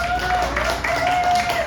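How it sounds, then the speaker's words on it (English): An audience at a book festival poetry reading claps steadily for about two seconds, a dense wash of applause with crowd murmur mixed in. "Let's give a round of applause for poetry again."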